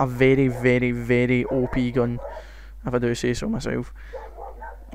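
Dogs bark in the background during a Modern Warfare 3 gameplay commentary, faint yips and bow-wows sitting under continuous close male speech that dominates throughout.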